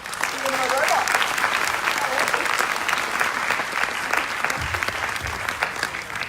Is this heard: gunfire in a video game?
no